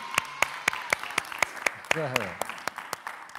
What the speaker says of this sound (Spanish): Un aplauso para esa frase